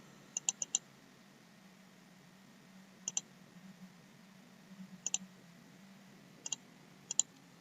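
A computer mouse clicks during Civil 3D drafting work, sounding as faint, sharp clicks in quick pairs and triples spread over several seconds against a quiet room hum, with no talking.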